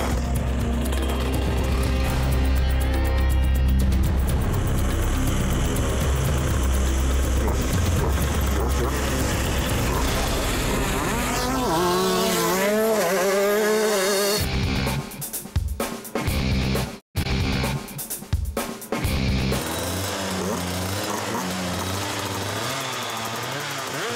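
Shifter kart race cars idle and rev loudly at the start of a title race, then roar off with rising, sweeping engine tones and abrupt gear changes. A voice talks over the close, heavy engine noise.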